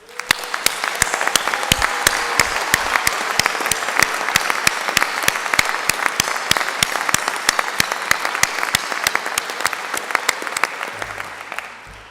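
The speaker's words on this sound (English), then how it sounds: "I want us all to give a huge round of applause in a moment" A university graduation crowd breaks into sustained applause, many sharp hand claps forming a loud, dense, continuous roar that swells in quickly and fades near the end.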